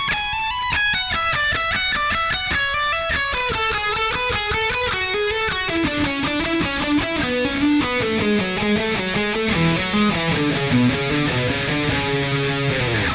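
Electric guitar playing a fast descending shred sequence, a steady stream of rapid picked notes stepping down in pitch in a clean, continuous run.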